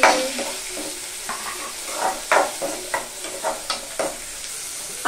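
Tomatoes and onions fry in a pan with a steady sizzle, while a spoon scrapes and stirs in repeated bursts of clatter, close and fairly loud.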